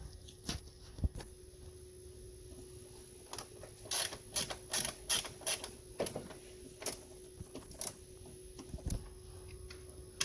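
Ratcheting and clicking of a hand tool removing a T25 bolt on the passenger side of a BMW 335d E90 diesel engine, short bursts of ticks and pawl clicks, close and moderately quiet with pauses between.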